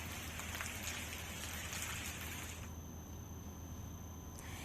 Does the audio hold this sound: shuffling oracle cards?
no